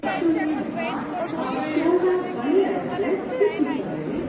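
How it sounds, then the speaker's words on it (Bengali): Busy crowd chatter fills Sealdah railway station, a close, steady babble of many overlapping voices that never drops away. "এত ভিড় স্টেশনে"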